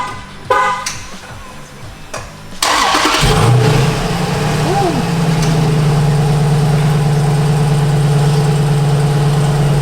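A Jeep SRT8 engine fires up by remote start, cranking briefly then settling into a steady, loud, low idle rumble after a few seconds of quieter background noise.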